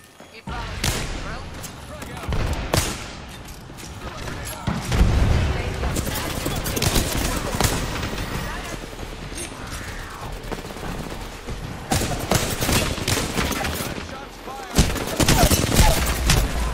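Bursts of video-game gunfire crackle in rapid volleys and scattered single shots, loud and close, with quieter gaps between, while a player talks over the action.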